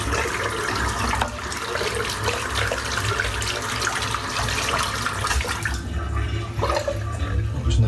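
Phoenix Artisan Accoutrements CAD shaving soap being rinsed out under a running tap: a steady, close rush of water splashing throughout, shifting slightly in tone toward the end, with no talking.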